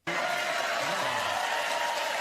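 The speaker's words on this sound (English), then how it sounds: "Let that Colbert audience cheer" Colbert show studio audience cheering and applauding, a dense sudden wall of clapping and cheers that bursts in and holds steady, loud and sustained.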